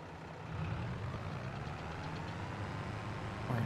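A tractor engine idles in Farming Simulator 22 with a steady, low, moderately quiet rumble that holds an even drone throughout. It is heard alone, without speech.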